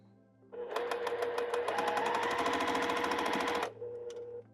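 A sewing machine stitches quilt pieces in one fast, continuous run of about three seconds, with a rapid even needle rhythm over a low motor hum, close and clear, starting and stopping abruptly.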